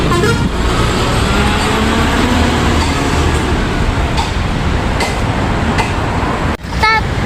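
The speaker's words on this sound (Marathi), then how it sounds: "आता शिवरामेश्वर ट्रॅव्हल निघालेली आहे. गोवाला जाते गाडी." A Shivrameshwar Travels bus pulls out for Goa with a loud, close engine roar and road traffic noise. Its horn sounds in brief toots, including one near the end.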